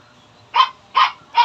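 A dog barks three times in quick succession, each bark sharp, loud and close, with short pauses between them and no talking.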